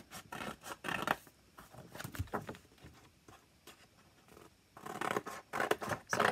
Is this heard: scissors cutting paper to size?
yes